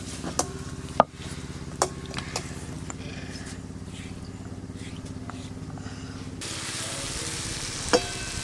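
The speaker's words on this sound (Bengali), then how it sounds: "এবার কিন্তু মশলাগুলো একসঙ্গে খুব ভালো করে কষে নেব" Spices sizzle with onion and tomato in a pan for a Bengali fish curry, a steady frying hiss with occasional sharp scrapes and taps of the stirring spoon.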